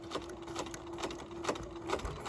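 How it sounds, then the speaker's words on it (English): A sewing machine stitches forward along a webbing casing at a quarter-inch seam allowance, giving a steady close-up mechanical hum with a rapid needle rhythm throughout and no talking. "I'm going to go ahead and sew forward at a 1/4 inch seam allowance"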